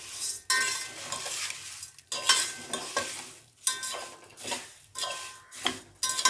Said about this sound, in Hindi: घी में भून लेते हैं।